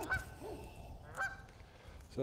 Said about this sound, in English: Oh, geese leaving. Oh, goodbye, goose.